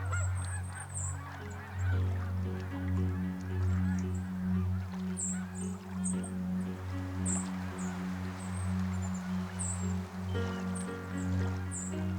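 Canada geese honk near a riverbank, a steady chorus of repeated nasal calls, fairly close and continuous, with faint rustling beneath.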